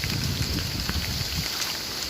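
Heavy rain falls in the hills at Ponmudi, a steady dense hiss of drops close by with a low rumbling wash underneath, continuous and unbroken throughout.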